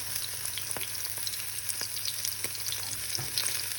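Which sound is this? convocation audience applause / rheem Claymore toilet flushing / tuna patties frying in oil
tuna patties frying in oil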